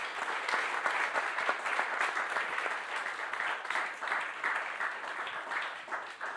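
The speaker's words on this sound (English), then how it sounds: "if I could just ask everyone to give a round of applause to our fantastic panel" Sustained audience applause for a panel at the close of a conference session on European economics and monopoly power, steady, many hands clapping evenly throughout before tapering slightly.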